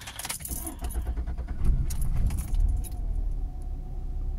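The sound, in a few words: 2005 Nissan Altima car starting for a test drive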